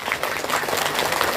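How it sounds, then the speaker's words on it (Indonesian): A dense burst of audience clapping at a humorous sermon in Bandung, a short loud wash of many hands with no voices above it. "tepuk tangan untuk masyarakat"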